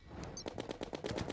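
The Mega Shark machine gun in Terraria firing a rapid, even stream of punchy shots, about a dozen in just over a second, close and loud with no talking.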